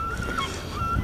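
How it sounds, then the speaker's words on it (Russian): Gulls cry outdoors on a spring day, with bright honking calls that rise and fall a couple of times over a steady rushing background. "Чайки кричат, всякие воробушки чирикают"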